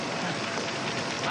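Fire burning with a loud, dense roar and continuous crackling hiss, steady and close throughout with no voices.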